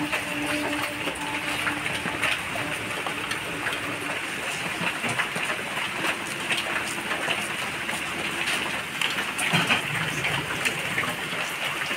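Heavy downpour hisses steadily and densely throughout, a constant wash of rain at moderate level with no voices.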